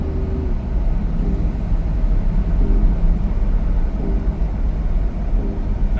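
A BMW supercar with a faulty cooling system creeps along at low throttle, its engine giving a steady, droning low rumble heard from the cabin with no talk.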